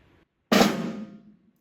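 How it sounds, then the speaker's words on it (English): Snare drum drag with soft buzzed grace notes, heard as one clean, loud stroke with a short buzzy attack that decays within about a second, alone in a quiet room. "We want to keep those grace notes down as softly as possible so that we hear a small amount of buzzing"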